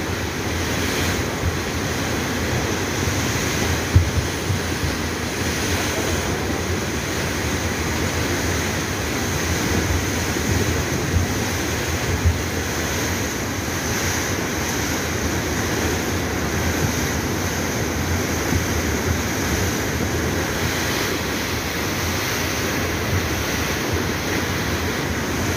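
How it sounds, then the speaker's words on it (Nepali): Boulders rolling under the flooded Marsyangdi river in June make a constant deep rumbling roar mixed with rushing water and wind noise, heard continuously and fairly loud with no talking. "पानी मुनि बगेको ढुङ्गाको आवाज हो यो"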